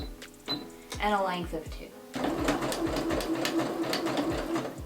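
Sewing machine running a zigzag stitch through sequin fabric with a thicker needle, a steady fast rattling hum after a brief start, with a person talking over the start and in the background.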